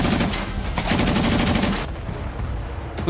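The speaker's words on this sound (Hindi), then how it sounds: "यूक्रेन के टैंक से एक गोला चला" Ukrainian tank firing a shell, heard as a loud, sustained roar of blast and rumble that fills the clip before easing slightly toward the end, with no voices.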